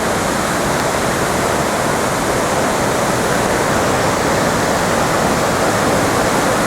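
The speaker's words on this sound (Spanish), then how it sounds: "Madre mía, cómo baja el agua aquí, chaval." Loud, steady roar of rushing water pouring down a waterfall in Redes Natural Park, Asturias, a dense continuous wash of noise with no pauses, close by.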